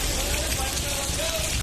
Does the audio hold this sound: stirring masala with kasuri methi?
no